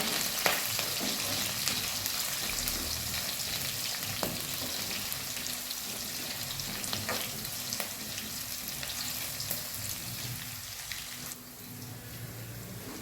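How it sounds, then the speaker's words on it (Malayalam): Crushed ginger, garlic, curry leaves and chili frying in a pan for a hog plum pickle, stirred constantly: a loud, even sizzle with sharp utensil clicks and scrapes scattered through it. "നമുക്കതിലേക്ക് ഇഞ്ചി വെളുത്തുള്ളി ചതച്ച് ഇട്ട് കൊടുക്കാം കറിവേപ്പില ഇട്ട് കൊടുക്കാം മുളക് ഇട്ട് കൊടുക്കാം"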